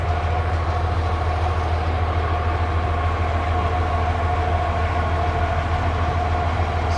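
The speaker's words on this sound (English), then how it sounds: "So we're going to take a train ride" A tourist train at the Goldfield ghost town in Arizona rumbles along steadily and close, with a continuous low drone and rolling rattle throughout and no talk.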